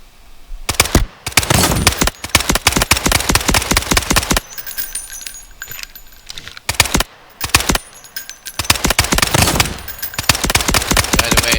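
Rapid automatic gunfire bursts loud and close in the Delta Force video game, long rattling strings of shots broken by brief pauses, with no talking.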